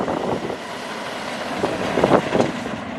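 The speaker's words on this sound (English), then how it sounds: "About to have the train pass by again." A coaster train rumbles past at moderate distance, a steady low roar with brief rattling swells toward the end, no voices.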